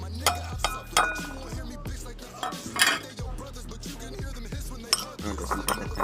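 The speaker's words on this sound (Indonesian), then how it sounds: "campurkan cabai merah besar, cabai rawit, dan bawang merah" Red chillies, bird's eye chillies and shallots being mixed for sambal, with repeated close clinks and scrapes of utensils against a bowl or pan in irregular bursts, fairly quiet.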